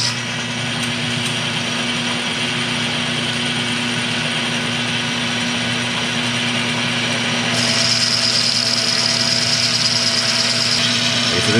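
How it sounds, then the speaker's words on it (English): A World War II–era South Bend lathe running steadily while turning a shift rod bushing, a loud continuous mechanical whir with gear hum that rises a little in pitch and intensity partway through. "It's a World War II vintage Southbend lathe."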